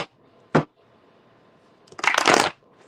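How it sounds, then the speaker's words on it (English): Tarot cards being shuffled by hand, a brief riffle followed by a longer, louder burst of rapid shuffling, close up in a quiet room. "let me shuffle these up real quick."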